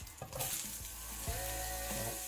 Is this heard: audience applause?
no